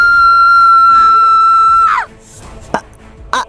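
One loud, sustained high-pitched scream lasts about two seconds and then breaks off, followed by a few sharp thuds and quieter noises.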